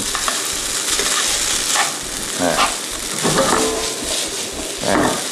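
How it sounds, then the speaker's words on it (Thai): Linguine with Mexican spice sauce and ham is stir-fried in a pan, producing a continuous sizzle with rhythmic scraping and tossing strokes that swell and ebb, close and fairly loud. "ผมผัดให้เห็นไหม มันเงาวับเลย"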